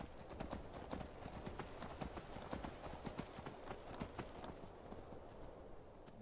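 Horse hooves clip-clop in the Skyrim video game as a horse travels cross-country, a quick, even run of hoof strikes sounding close and fairly faint over a soft background.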